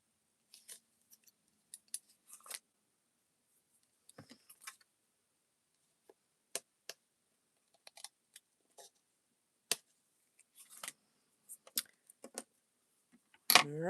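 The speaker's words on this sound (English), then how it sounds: "I take my shears on an angle and just cut along the line" Shears snipping paper at an angle along a die-cut line on a papercraft panel, a sparse series of quiet, crisp close-up cuts and rustles separated by silences, with a louder rustle at the end.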